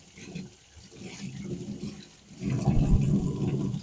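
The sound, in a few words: rinsing aquarium canister filter pads under running water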